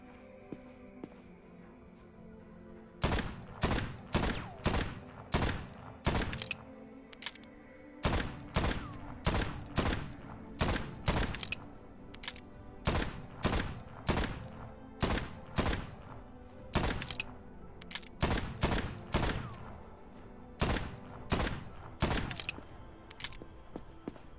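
Repeated gunfire in the game Voidtrain cracks out in quick bursts and volleys, sharp loud shots in irregular clusters over a quieter mechanical hum, with no talking.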